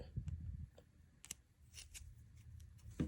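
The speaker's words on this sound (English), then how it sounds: "Cut the yarn long enough to sew onto the body." Scissors cut yarn while a crochet keychain is being made, giving a few quiet, close snips, with soft handling rustles between them.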